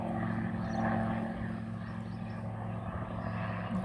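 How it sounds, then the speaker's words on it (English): A small helicopter flies overhead, its engine a faint, steady drone with a low hum lingering in the background, soft and distant throughout. "And you just hear that little helicopter fly above."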